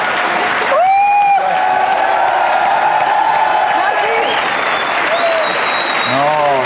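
Studio audience applause and cheering on a French television show, loud steady clapping throughout with whistles and whoops rising above it and brief talk mixed in.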